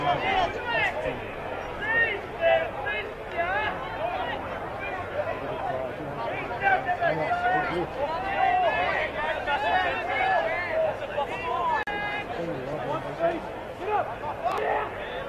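A home crowd at a Newcastle rugby league first-grade match, Kurri Kurri Bulldogs against Lakes United, chatters and murmurs as a steady distant babble under a commentator's continuous talk.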